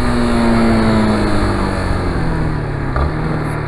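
Yamaha Fazer 250 motorcycle running weak and lacking power, its engine idling steadily and close by with a constant low drone that barely changes throughout.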